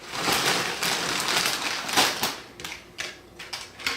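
Red quinoa chia tortilla chips are dropped onto a platter, a close, dry crackling rattle of stiff pieces clattering together, thinning into a few separate clicks toward the end.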